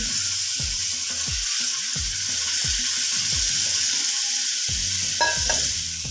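Water sizzling and bubbling as it is added to frying semolina in a hot pan for halwa, while a spoon stirs and scrapes in repeated strokes, close and fairly loud.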